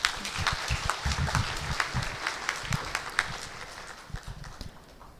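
An audience claps after a presentation at a Korean privacy-protection case-study seminar: soft, quick, scattered clapping from a modest crowd, at a fairly low level throughout.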